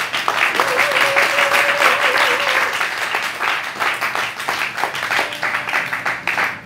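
A church congregation breaks into sustained applause to acclaim the king of kings, steady dense clapping throughout with a sung or held tone rising above it and voices mixed in.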